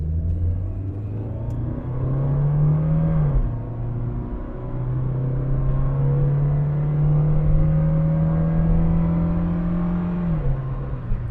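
A 1989 Honda Accord Aerodeck engine pulls hard on an open road, a steady loud drone climbing in pitch through the gears with a brief dip around a shift midway, then rising again, no voices.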